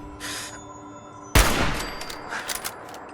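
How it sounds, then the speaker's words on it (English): A machine gun turret in Fallout 4 lets off a sudden loud, close burst after a quiet hiss, followed by a few sharper rattling shots trailing off. "Machine gun turret."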